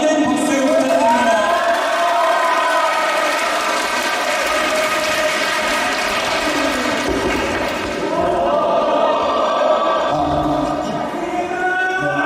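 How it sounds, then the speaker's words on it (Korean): Audience applause and crowd noise fill a school song-festival hall as a special guest singer is welcomed to the stage, steady and loud throughout with a rattling clatter of clapping and scattered cheering. "김현우 선생님께 많은 박수 부탁드립니다"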